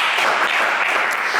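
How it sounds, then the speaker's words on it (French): Studio audience applause on a French television game show, a steady dense wash of clapping that holds at an even level throughout without pause. "On vous applaudit quand même bien fort."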